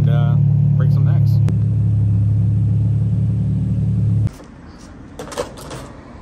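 A car engine idles loudly in a low, steady drone, then a sharp change and a sudden cutoff leave quieter road and cabin noise, with faint knocks and brief voices toward the end.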